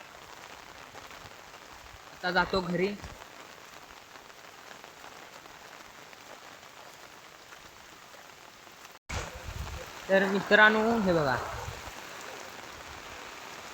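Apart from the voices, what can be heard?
heavy rain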